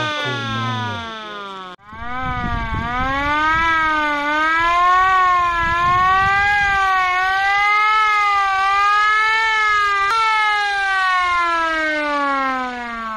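A rooftop siren on a replica Hungarian ambulance car wails loudly and steadily, rising and falling in a smooth repeating sweep that dominates the scene after a brief start.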